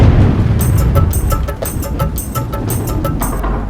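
Loud, rolling thunder rumbles through heavy night rain, with sharp crackling bursts over a dense, continuous roar.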